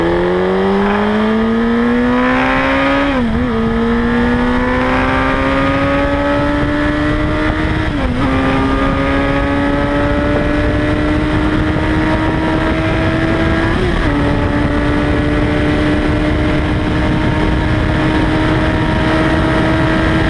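A Hayabusa motorcycle on a mile-long speed run accelerates hard, its engine pitch climbing steadily with a few brief dips at gear changes, loud and close throughout under heavy wind roar.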